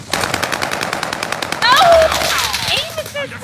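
Rapid automatic gunfire from a shooter video game bursts out in dense, loud repeated shots, overlapped by game effects and a voice talking over the action.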